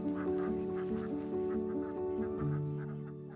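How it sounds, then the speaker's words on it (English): Runner ducks on a farm quack and honk in a flock, a run of repeated nasal calls overlapping close by, steady for a few seconds before easing off slightly at the end. "If you're a beginner and you fancy ducks, why not try a runner?"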